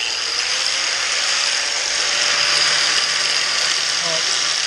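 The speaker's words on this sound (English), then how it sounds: "let's do some grinding" A continuous, harsh grinding of metal, a bright hissing whine that holds steady and loud at close range for the whole stretch, with no pauses.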